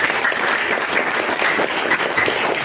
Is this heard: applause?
yes